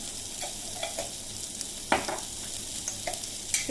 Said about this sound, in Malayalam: ആദ്യമേ ഞാൻ മഞ്ഞൾപ്പൊടി ചേർക്കുകയാണ്.